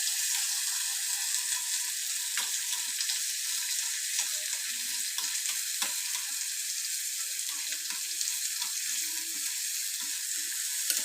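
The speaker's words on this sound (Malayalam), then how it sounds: "ഇത് നല്ല ബ്രൗൺ കളർ ആവുന്നത് വരെ വഴറ്റി കൊടുക്കാം." Onions for a Kerala fish curry sauté in a pan, making a steady close sizzle with faint stirring scrapes, constant and even, with no talk.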